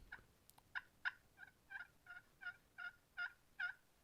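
A tom turkey gobbles in crisp, quiet morning air, a series of about ten rapid, evenly spaced warbling notes in a rolling burst, moderately near with nothing else audible.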